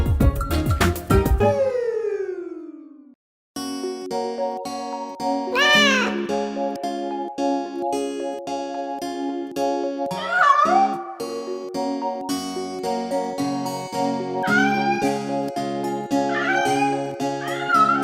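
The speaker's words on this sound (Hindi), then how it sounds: "एक बिल्ली हमारी कैसे बैठी बेचारी" Cartoonish cat meows in a Hindi children's rhyme song, several drawn-out rising and falling calls at intervals over bright, steady music.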